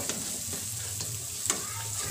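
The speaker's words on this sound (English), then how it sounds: "I'm going to stir it." Food being stirred in a frying pan while cooking lunch at home, with bacon among the food: a steady low sizzle of frying runs throughout, broken by a few faint scraping strokes of the spoon against the pan.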